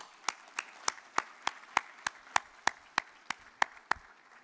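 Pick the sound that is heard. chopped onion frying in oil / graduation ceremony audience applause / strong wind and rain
graduation ceremony audience applause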